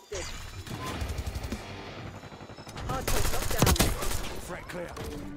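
XMG light machine gun in Black Ops 6 firing in rapid bursts, dense clattering gunfire that swells louder near the end, with other game effects mixed in.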